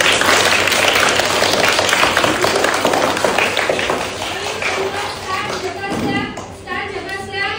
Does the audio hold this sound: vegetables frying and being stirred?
no